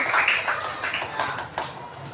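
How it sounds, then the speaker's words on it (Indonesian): A classroom of students clapping together, a steady, fairly close patter of many hands with a few louder bursts, continuing evenly without talk over it. "Tepuk tangan dulu untuk kita semua pada hari ini."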